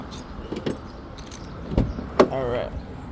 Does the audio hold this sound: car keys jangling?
yes